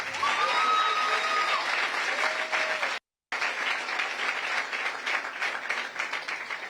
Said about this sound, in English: Please, can our next round of applause be for his wife?